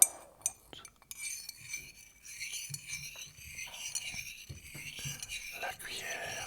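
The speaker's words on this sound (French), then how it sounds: "la cuillère qui tourne dans le mug." A spoon stirs tea in a mug, with soft clinks and swirling scrapes of metal against ceramic, close up and quiet, under gentle whispering.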